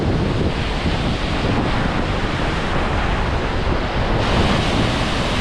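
Strong wind roars off a waterfall, a loud, continuous broadband rush buffeting close to the microphone with the surging wash of water underneath, no voices.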